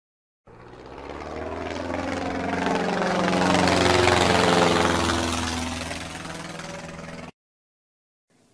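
An airplane engine drones in a steady, loud pass that swells to a peak midway and then eases off, cutting to silence near the end.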